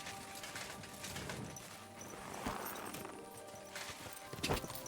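Horse hooves clip-clopping in Kingdom Come: Deliverance 2, a steady run of soft hoofbeats with a few sharper knocks, moderately close and alone without talk.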